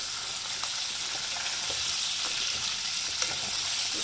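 Chicken fry sizzles steadily in a pan, a dense continuous hiss with a few faint scrapes and pops breaking through, close and fairly quiet with no talking.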